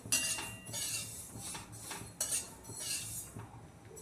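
Sesame seeds roasting in a pan while a metal spoon stirs them, giving repeated scraping sweeps and light clinks at a steady rhythm, close and fairly quiet with no talk.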